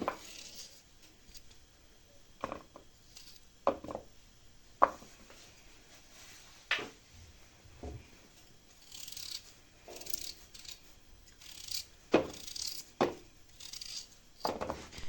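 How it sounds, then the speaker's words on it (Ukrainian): A knife slicing potatoes into thin fry-style strips, heard as a series of sharp, separate cutting clicks and scrapes at uneven intervals, fairly close and quiet, with no talking. "Тепер беру картопліку ріжу соломинками, так щоб о, як картопля фрі."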